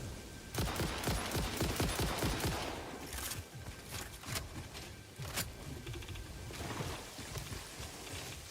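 Rapid bursts of gunfire in the video game Satisfactory, dense crackling volleys that come and go in clusters, fairly loud with no talking over them.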